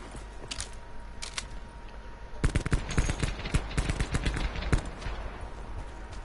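Gunfire from the Black Ops video game in a zombies match, rapid automatic bursts of shots growing denser partway through, loud and close against a constant background hum.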